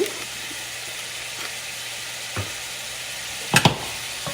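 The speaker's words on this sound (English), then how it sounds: "And I'm going to continue to saute this." Vegetables saute in a pot with bay leaves, giving a faint, steady sizzle close by, broken by a couple of soft stirring knocks and a sharper clatter near the end.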